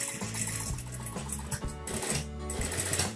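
A sewing machine stitches a shirt collar in a steady, loud mechanical run of rapid stitching, pausing briefly and restarting a few times, with no speech over it.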